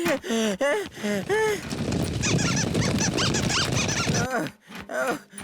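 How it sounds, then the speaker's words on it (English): Cartoon squirrels in a little kingdom squeak in a rapid series of high, chirping calls over busy background sound and a short stretch of chattering commotion. "The squirrels are coming! Squeak! Squeak!"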